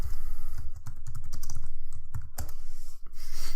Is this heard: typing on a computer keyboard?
yes